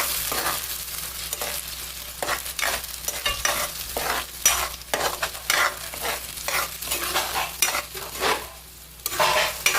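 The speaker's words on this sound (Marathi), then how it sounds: "भाजलेला टमॅटो वगैरे ते मी ह्याच्यामध्ये आता टाकते ही सर्व आपण परतून घेणार आहोत" Roasted tomatoes and masala being sautéed in oil with onions for prawn masala, giving a steady close sizzle broken by repeated scraping stirs of a spoon in the pan, with no talking.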